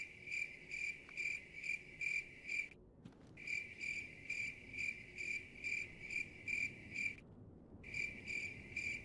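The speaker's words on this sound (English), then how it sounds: "Good, you hear the crickets." Cricket chirping sound effect added during a stream of the hunting game theHunter: Call of the Wild, a loud steady pulsing trill that cuts out briefly twice, with no talk over it.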